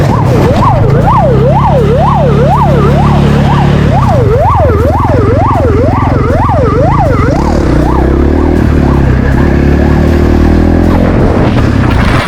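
A police car siren wails loud and close, rising and falling in a fast, regular yelp cycle that fades into a steady drone toward the end, with no voices.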